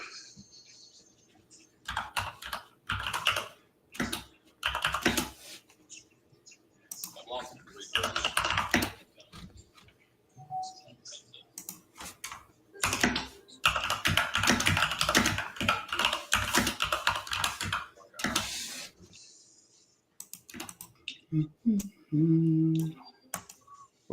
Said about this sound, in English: What are you fucking typing over there, man?